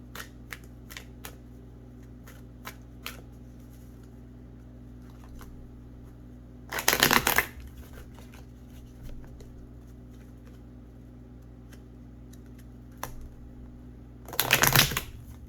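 Oracle cards of spirit guides being shuffled, two loud riffling bursts several seconds apart over a low steady hum, with scattered light taps and clicks in between.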